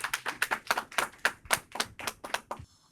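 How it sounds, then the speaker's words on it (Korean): An audience at a Korean REIT investor conference claps to welcome a speaker. About a dozen distinct claps come in a steady rhythm, close and crisp, then fade out after under three seconds. "큰 박수로 환영해 주시기 바랍니다"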